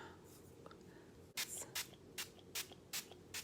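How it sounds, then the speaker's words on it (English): Quiet rustling, then a spray bottle fires off about seven short, crisp mist bursts onto natural hair in a steady rhythm, close by. "I'm going to spray this on."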